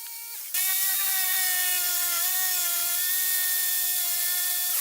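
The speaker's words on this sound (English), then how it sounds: "we'll cut the shape out with the jigsaw" Electric jigsaw cutting a wooden coffee scoop shape, a loud continuous high whine with steady tonal harmonics that starts abruptly after a brief quieter lead-in and runs unbroken to the end, nothing else heard.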